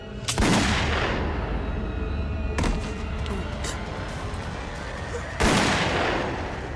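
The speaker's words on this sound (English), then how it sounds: "Shot with a .357 Magnum." Three loud gunshots from a .357 Magnum revolver, widely spaced over several seconds, each a sharp crack with a long echoing tail under a steady low background rumble; no voices.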